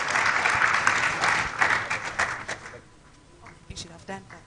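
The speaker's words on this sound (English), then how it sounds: "Let's welcome him with a round of applause." Audience applause at a university freshers orientation day, a dense sustained clapping wash that fades after about three seconds into quieter room noise with a few scattered claps.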